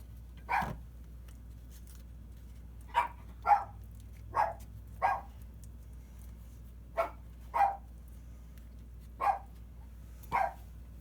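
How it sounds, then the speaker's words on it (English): A dog barks in the background of a home kitchen, giving about nine short, separate barks spaced a second or two apart over a low, steady hum. "Ignore the dog in the background."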